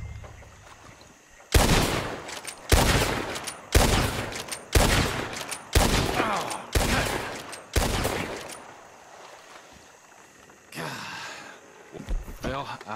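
Repeated gunfire in Red Dead Redemption 2 as a shooting party fires at birds: about seven loud, evenly spaced blasts over several seconds, followed by a quieter, breathy burst and softer sounds near the end.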